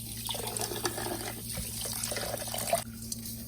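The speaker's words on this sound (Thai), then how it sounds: "ก็มาล้างอีกตึม ล้างเพื่อว่าให้น้ำส้มมันออกเกลือมันออกแล้วก็เมือกป่ามันออกดี" Running tap water splashing into a sink as fish is rinsed of vinegar, salt and slime while making Lao fermented fish spring rolls; a steady close wash with a few small splashes and drips.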